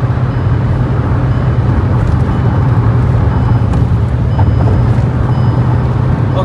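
Kia Sonet HTX 1.5 diesel with manual gearbox accelerating hard on a highway, giving a steady, loud engine drone with road and wind roar that holds constant throughout, no voices.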